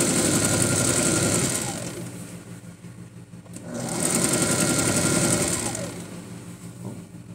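Sewing machine stitching a luxury skirt for Umbanda ceremonial wear, running in two steady loud bursts with a brief slowdown between them, alone without talk.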